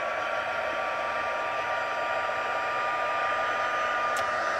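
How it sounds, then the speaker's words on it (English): A heat gun blows steadily over ink on foil cardstock, a continuous loud airy whoosh with a faint electric whine that holds level from start to finish. "So I'm just going to hit this with my heat gun."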